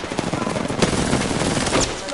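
Rapid Apex Legends gunfire rattles in a dense, loud, continuous burst with overlapping shots, and a voice is briefly audible beneath it.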